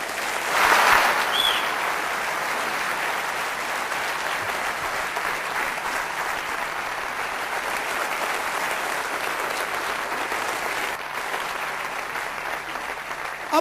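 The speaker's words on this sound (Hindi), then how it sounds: "जोरदार ताली इनके लिए हो जाए।" An audience at a motivational sales and network-marketing seminar breaks into loud, sustained applause for MLM winners; dense clapping holds steady throughout with no talking over it.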